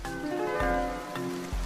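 Steady rain falls near a bus station on a shopping day, with a continuous wash of droplets and a few soft thuds and knocks, all under gentle background music.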